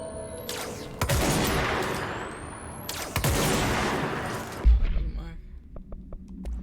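Rapid gunfire rings out in the video game Control in two dense, loud bursts, each with a rising whine, followed by a low thump and a few scattered clicks.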